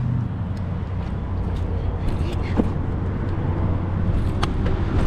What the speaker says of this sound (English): Got a lot of traffic right now.